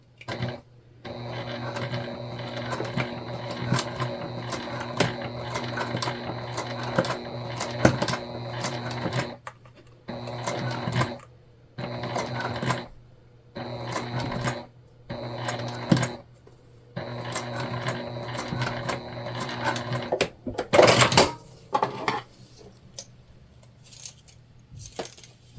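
Sewing machine stitching a crossbody bag, steady rhythmic mechanical whirring in repeated bursts with short pauses between runs, close and fairly loud, with light clinks and handling noises near the end.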